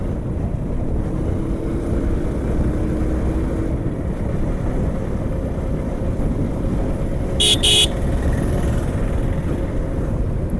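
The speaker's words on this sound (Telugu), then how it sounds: "Auto it's very disturbing." Road traffic near Vizag rumbles steadily in a low, continuous drone of engines, with a short double horn toot cutting through about two-thirds of the way in.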